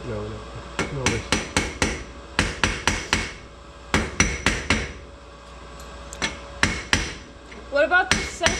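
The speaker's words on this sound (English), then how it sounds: "Do we have a bigger hammer?" Hammer blows ring out on metal parts during a differential install of 5.38 gears and a Duragrip limited-slip with a new seal, coming in quick clusters of loud, sharp strikes with short pauses between them, and brief talk near the end.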